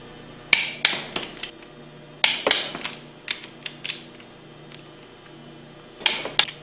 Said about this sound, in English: Torque the discharge manifold bolts to 30 foot-pounds.